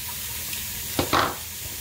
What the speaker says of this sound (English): we're going to saute a whole onion